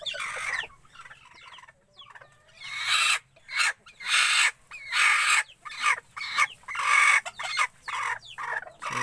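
Bantam chickens cluck near a nesting hen, with repeated close, loud clucks and calls coming in bursts, separated by short quiet gaps.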